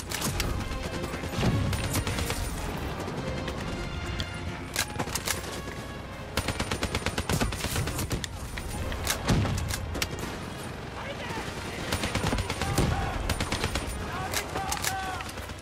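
Rapid mounted-turret gunfire in the shooter Black Ops 3, bursts of automatic shots with crashing impacts and mechanical clatter running through a busy battle mix, with occasional voices.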